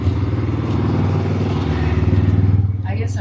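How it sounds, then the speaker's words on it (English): A motorcycle rumbles past outside with a throbbing, pulsing engine drone that swells and then fades near the end, while a person talks over it. "Oh my God, the freaking motorcycle."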